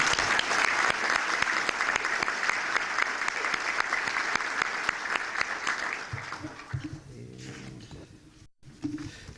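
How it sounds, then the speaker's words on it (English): Audience applause for newly introduced members at a chamber of commerce event honoring troops and veterans, a dense steady clapping that fades out over the last few seconds. "If we have a round of applause for our new members."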